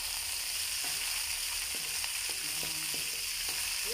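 Tomatoes sautéing in a hot pan for ginisang ampalaya, a steady close sizzle and crackle with occasional light stirring taps of a utensil, no voices.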